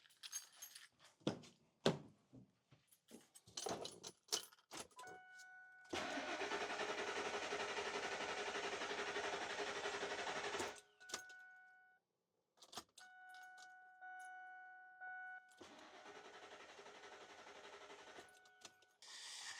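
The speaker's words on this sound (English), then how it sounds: "I'm just gonna go turn the key" A car engine cranking and starting with an ignition key, amid shop repair work on a vehicle with a suspected fuel pump fault: clicks and clatter, then a steady running engine for several seconds, a pause, and the engine running again.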